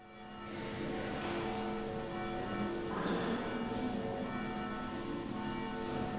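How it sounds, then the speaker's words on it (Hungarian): Church bells ring continuously for a Pentecost service, several bells overlapping in a rich, sustained peal with no voices. "Harangszó hirdette a Szentlélek kitöltetését"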